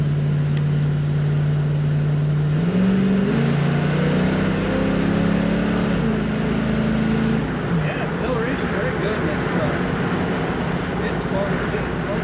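A 1977 Chevrolet K5 Blazer Cheyenne 4x4 truck drives and corners, its engine humming at a steady low pitch that steps up a couple of times, with constant road and wind noise inside the cab.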